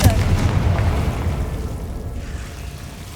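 A Confringo spell blast in Hogwarts Legacy: a sharp, loud boom at the start that rumbles and decays over a few seconds, with a voice calling out over the burst.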